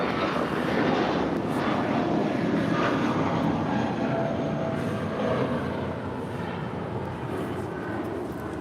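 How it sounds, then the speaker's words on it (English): An 18-year-old JetBlue Airbus A320 departs LAX runway 25 right for Las Vegas, its engines giving a steady, broad roar heard from a distance that holds loud and even before easing slightly toward the end. "This is Liberty Blue departing to Las Vegas on this 18-year-old A320."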